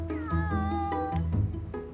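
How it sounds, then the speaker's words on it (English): Scruffy stray cat meowing loudly and close, a drawn-out yowling cry that rises and wavers, with no talk over it. "He looks like a typical stray cat, bit mucky, bit of a rogue."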